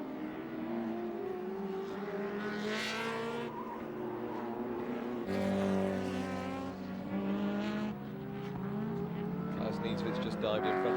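Ford Sierra Cosworth touring cars racing at Calder Park, engines roaring loudly with steady high revs and shifting pitch as they pass, with a brief surge midway and no talk.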